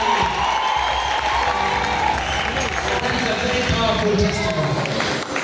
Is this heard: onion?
no